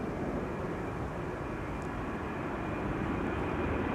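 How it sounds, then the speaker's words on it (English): An empty LATAM Boeing 767 cargo jet climbs away from Amsterdam Schiphol, a faint, distant steady engine rumble with a broad hiss, continuous and unbroken with no voices. "767 LATAM cargo, flying by the looks of it empty to Brussels."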